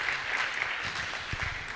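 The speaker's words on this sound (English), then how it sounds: "I think it's worth doing another round of applause to appreciate the EM for coming through." Brief burst of sustained audience applause for the Executive Mayor at a Gauteng spaza shop and informal traders summit, a continuous even clapping wash.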